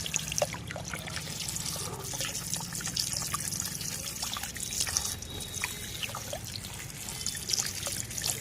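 Water spilling over the rim of a lotus plant container, a steady trickle and dribble with small drips running for several seconds, faint and close, no talk.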